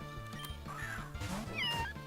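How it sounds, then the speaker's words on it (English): A short, cat-like creature cry from the Pokemon Uranium video game chirps and warbles in a few quick rising and falling notes over a quiet looping game tune. "Oh, it's a little kitty cat."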